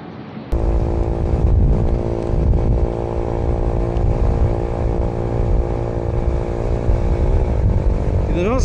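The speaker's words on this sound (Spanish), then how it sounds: "Entre más aerodinámicos seamos, la moto va a ir más rápido." Vento Rocketman motorcycle accelerating on a highway, a loud, close engine drone that starts abruptly and holds a strong steady harmonic whine with slight pitch shifts for several seconds.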